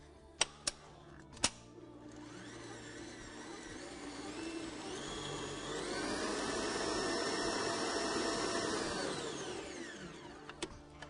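An electric mixer whirs steadily for several seconds as it blends flour and milk into a striped cake batter, rising and fading in pitch, framed by a few sharp clicks before and after.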